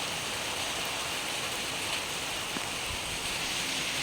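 Steady rain falls outside a house while rainwater runs over the road, making a loud, continuous hiss of drops and flowing water close by with no speech.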